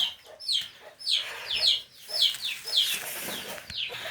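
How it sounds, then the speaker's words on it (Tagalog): Several chickens cluck and squawk indoors in short, repeated bursts, close by and moderately loud, with a few overlapping calls. "Daming manok sa sulod."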